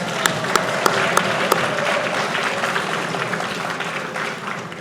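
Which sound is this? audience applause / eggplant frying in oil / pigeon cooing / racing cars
audience applause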